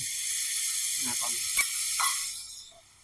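Ginger and garlic frying in a pan give off a steady bright sizzle, with faint scraping stir noises in the middle before the hiss fades toward the end.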